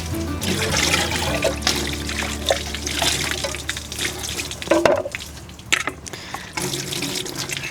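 Items being washed with water drawn from a hand pump at a beach campsite, continuous running and splashing water with dripping, rubbing and clatter of handled objects, close and steady, no talk.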